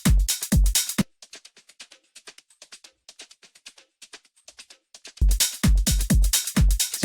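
A dark tech house top drum loop played solo, crisp rapid percussive hits in a tight groove, loud hard-hitting passages framing a quieter stretch of soft ticking hits.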